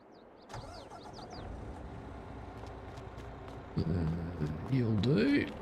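A truck engine turns over and settles into a running idle at a farm yard, a low mid-pitched rumble rising louder near the end as the motor revs, with people talking over it.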